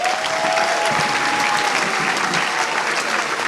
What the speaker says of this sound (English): How about a thunderous round of applause for our new Hall of Fame recipients?